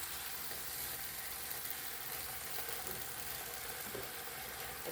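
Wet collard and cabbage leaves sizzle in a pan while being stir fried, a steady, faint, hissing crackle that continues evenly throughout with no talk.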